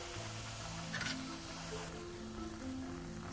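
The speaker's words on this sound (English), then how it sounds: "We are going to fry them till they become little golden brown on both the sides." Jowar (sorghum) masala puris deep fry in hot oil, a steady close sizzle and bubbling that runs throughout at moderate loudness, with faint kitchen clatter.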